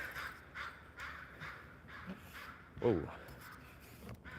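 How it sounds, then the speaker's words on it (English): Crows and ravens caw in a forest on a quiet trail, a series of faint, distant calls repeating in a loose rhythm, with a voice speaking briefly close by. "Those are crows and ravens."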